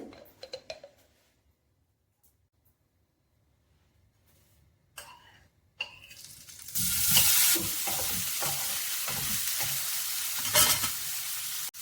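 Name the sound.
paneer frying in ghee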